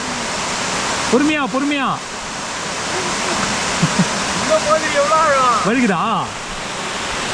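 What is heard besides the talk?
waterfall in Tiruvannamalai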